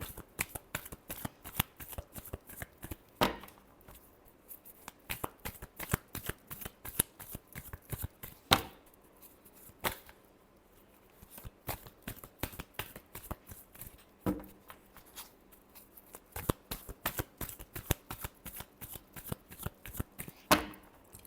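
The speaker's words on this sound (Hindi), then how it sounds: "Last shuffle." Tarot cards being shuffled by hand in repeated quick riffling bursts, close and crisp, with short pauses between rounds.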